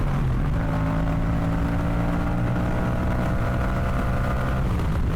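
A Yamaha FZ-07 motorcycle engine revs after a downshift, a loud, steady, close droning roar whose pitch holds fairly level throughout, with no talking.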